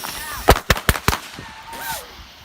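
Fireworks bursting in the Fallout: New Vegas video game: four sharp, loud bangs in quick succession, followed by fainter whistling and crackling tails.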